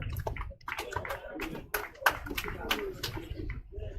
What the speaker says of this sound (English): Just clap until I tell you that it's enough